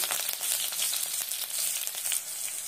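Crushed garlic and curry leaves sizzle and spit in hot oil, a bright crackling fry close up that stays steady for a few seconds with small pops.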